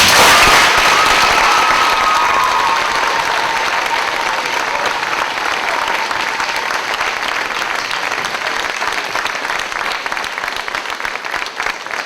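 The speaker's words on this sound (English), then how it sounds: "We should give him a round of applause" Loud, sustained applause from a large theatre audience at a production of The King and I, dense clapping filling the space and tapering slightly toward the end.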